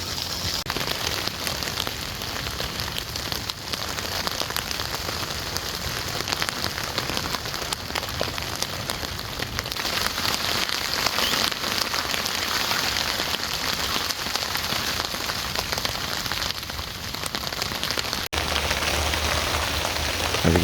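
Hail pelts down steadily on a camp during a storm while hammock camping, a dense continuous patter close by with no pauses, loud and unbroken for the whole stretch.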